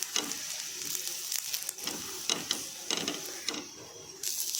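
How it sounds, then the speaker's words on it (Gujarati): Bajra flour dhebra flatbread roasts in oil on a pan with a soft, continuous sizzle, broken by several brief scraping or flipping strokes at a steady rhythm, fairly faint and close. "આ રીતે તેલ બંને સાઈડે તેલ રેડી તેને આ રીતે આપણે શેકી લેવાનું છે"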